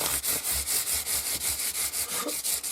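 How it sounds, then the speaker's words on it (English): Steady rhythmic rasping of sandpaper rubbed back and forth on the wooden neck of a 1977 Ibanez MC 300 guitar, about a dozen even strokes, close and loud, with no voices. "Just going to kind of give this neck a little sanding down."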